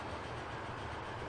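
Train running in the Transport Fever 2 simulation game, a steady broadband rumble and rolling wagon noise that holds evenly for the whole second, fairly quiet, with no voices.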